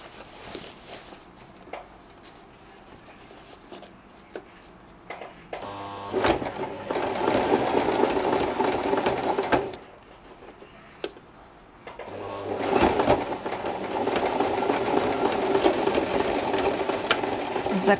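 A sewing machine stitches a skirt onto a wedding dress corset along the joining seam, running in two loud, steady whirring bursts separated by short quiet pauses with faint handling noises.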